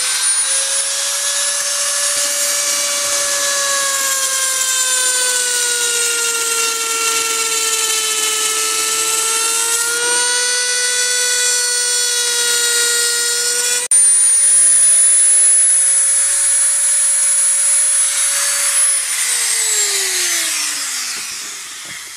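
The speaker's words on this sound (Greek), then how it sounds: "Με το Dremel, με ένα εργαλείο μπροστά που είναι σαν λίμα," A Dremel rotary tool with a file-like bit cuts a slot into a Cressi Comanche speargun handle, a loud, steady high-pitched whine that wavers slightly, drops in pitch and winds down at the end.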